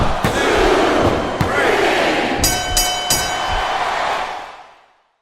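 A capacity arena crowd roars steadily throughout a wrestling match in WWE Smackdown vs Raw 2007, with a few sharp slams and bright tonal effects cutting through midway before the noise fades out at the end.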